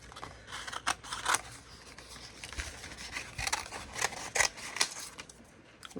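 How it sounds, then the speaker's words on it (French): Scissors snipping through paper glued onto thin craft card, a quick irregular run of crisp close cuts and rustles with no speech. "Bon, on va déjà découper un petit peu ce qu'on a là."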